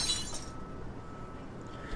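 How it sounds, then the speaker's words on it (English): Glass shatters in a horror visual novel, a bright crash of breaking glass at the start that quickly fades into a low rumbling bed with faint tinkles. "The sound of shattering glass goes throughout the air as soon as her hold on it fucking loosens."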